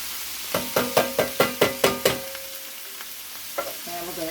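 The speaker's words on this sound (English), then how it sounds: "We're going to dump those vegetables in there. Stir fry them." Vegetables stir-fried in a pan: a run of about eight sharp, evenly spaced scraping strokes of a utensil, followed by a pause and a few softer stirs, close and fairly loud with no talking.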